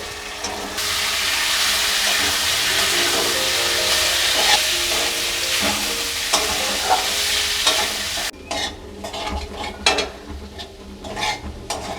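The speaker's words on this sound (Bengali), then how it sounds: "এর মধ্যে আমি দিয়ে দেব সেদ্ধ করে রাখা ছোলা ও আলুগুলো" Boiled chickpeas and potatoes stirred into fried masala in a pan for aloo chana, steady loud sizzling with scraping stirs throughout, the frying hiss dropping away near the end, leaving clattering spatula scrapes with no talk.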